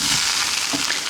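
Rice fries in oil in a pot with a steady, close hissing sizzle and faint stirring scrapes.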